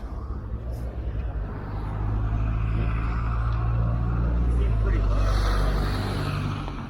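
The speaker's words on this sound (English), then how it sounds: "Okay, there's that bus." A city bus rolls past on Thompson Street in Port Richmond, Philadelphia, its engine rumble swelling and then fading across several seconds, fairly close, with a little street noise around it.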